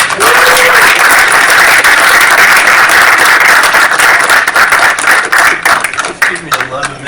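A gaming convention audience at Gary Con claps loudly for Jim Ward coming up to a Goodman Games panel, a dense burst of applause that thins out toward the end as someone talks.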